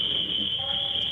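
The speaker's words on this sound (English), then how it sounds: "the fire alarms are going off" A building fire alarm sounds continuously during a 911 emergency call, a steady high-pitched electronic tone over muffled background noise and faint voices.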